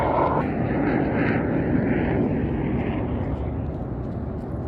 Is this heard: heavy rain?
no